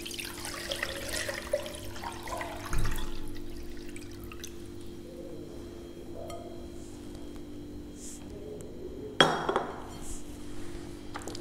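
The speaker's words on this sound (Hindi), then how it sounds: "मैं ये मिल्क इसमें कढ़ाई में डाल देती हूँ।" Milk poured into a kadai for sweet semiya makes a steady, faint liquid wash that runs throughout, broken by a dull knock early on and a sharper clink of the pan later.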